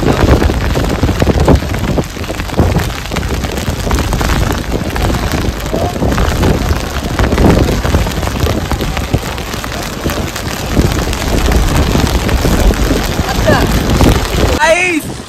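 Steady rain pours down at the beach in Digha, a dense, continuous hiss with gusty wind and faint voices, holding level for about fifteen seconds before dropping off at the very end.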